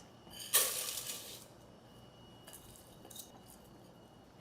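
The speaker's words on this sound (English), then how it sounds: "Now let's add the rice into the rice cooker." Rinsed rice pours into a rice cooker pot in a short, bright rattling rush of grains, followed by a few faint scattered ticks and clinks in a quiet room.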